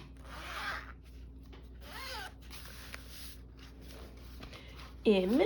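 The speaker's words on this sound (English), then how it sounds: "Oh, I love that zipper so much." A clothing-style zipper is pulled open or closed several times in short rasping strokes, faint and close, with a louder final pull near the end, while someone talks quietly in the background.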